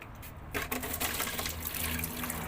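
Running water splashes steadily from a tap while something is rinsed and washed, the flow starting abruptly after a brief quiet moment and continuing close and fairly loud without pause, with no talking.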